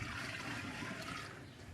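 Creek water poured into a cooking pot outdoors, a steady faint splashing and gurgling stream that runs continuously for under two seconds with no talk.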